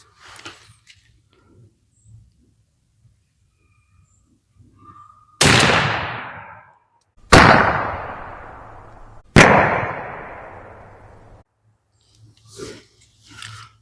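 Three loud, sharp shots from a 3-inch .410 bore shotgun loaded with Remington Express XLR #7.5 shot through an extra full turkey choke at 30 yards, each a close, booming blast with a ringing tail, spaced about two seconds apart amid quiet handling noises.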